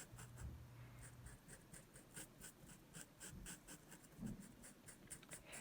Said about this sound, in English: Just drawing very carefully